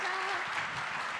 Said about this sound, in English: I'd like to ask everyone to give a big round of applause for our panelists.